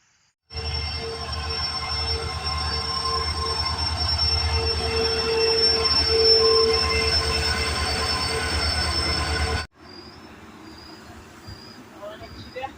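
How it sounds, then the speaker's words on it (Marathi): A train pulls into Satara railway station with a loud, sustained rumble, rhythmic wheel clatter and a high squeal of wheels on rails, holding strong for about nine seconds before cutting off abruptly into quieter platform ambience. "3:10ला आली ट्रेन"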